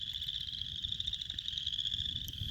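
A continuous high-pitched trill of wood frogs calling in a steady chorus on the Moss Lake Trail, Elk Island, with a low rumble of outdoor background noise beneath.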